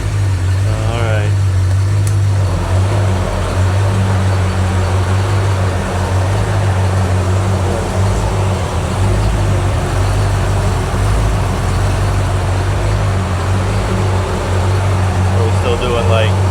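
A rebuilt Ford small-block V8, a 289 or 302, idles at about 750 RPM with a loud, even, low rumble that holds steady throughout while voices talk nearby.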